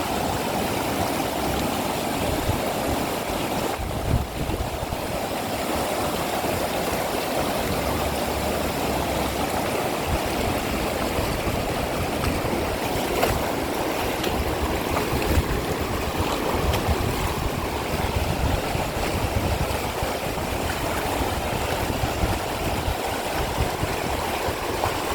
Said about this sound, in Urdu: پانی کا بہاؤ تیز ہے، اسی لیے شور مچا رہا ہے۔